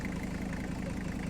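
A Toyota Land Cruiser's five-cylinder engine idles with a steady, even rumble, close and continuous with no talk.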